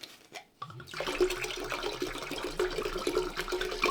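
Water glugs and splashes steadily from a bottle into a container after a brief clink, a continuous close pouring sound, while making mulled wine.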